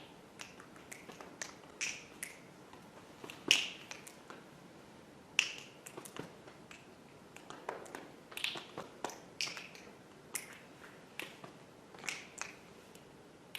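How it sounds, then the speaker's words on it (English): Participants in a room snap their fingers and lightly clap on their thighs, producing sparse, irregular crisp clicks that sound from different spots at modest volume, with no talking. "start to signal your presence in the room by just snapping your fingers or a light clap on your thigh"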